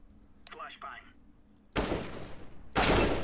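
Gunfire in the shooter game CS:GO: after a brief voice, a loud burst of shots erupts and sustains, then a second heavier volley follows, close and dense.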